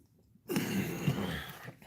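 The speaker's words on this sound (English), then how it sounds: "I guess we're gonna have a sneeze attack this morning." A person sneezes once, a sudden loud breathy burst after a short quiet stretch, trailing off over about a second, close to the microphone during a live stream.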